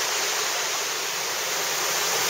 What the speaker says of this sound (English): And our dark forest is opening up into a beautiful sunlit bit of waterfall place.